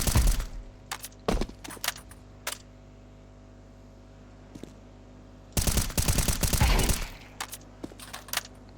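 Bursts of rapid gunfire in Counter-Strike 2, scattered single shots and short volleys with a long dense automatic burst near the end, loud and close with a steady game ambience underneath.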